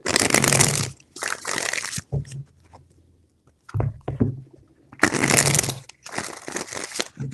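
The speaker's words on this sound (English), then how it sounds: "4 shuffles." Tarot cards shuffled by hand in several separate bursts, each a loud, close, crisp rush of riffling card stock, with quieter gaps of handling between them and no talking.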